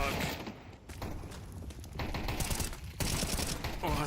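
Rapid gunfire rattles in bursts during Counter-Strike 2 esports play, dense overlapping shots filling the clip at moderate loudness with brief gaps between volleys.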